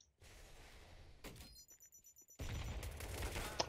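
In a video game, an enemy fires an AK rifle in bursts: sustained rattling volleys come back and forth, with a rapid string of separate shots between them and a sharp crack near the end.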